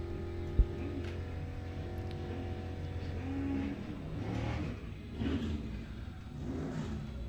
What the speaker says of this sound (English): That is the green Firebird over here, alongside Josh Gill.